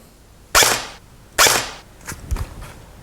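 An S&T Tavor TAR21 airsoft electric rifle fires two sharp, close single shots about a second apart, followed by a few softer mechanical clicks and knocks.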